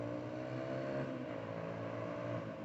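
A Suzuki DRZ125 motorcycle engine runs at a steady idle, a continuous close buzzing drone with no voices over it.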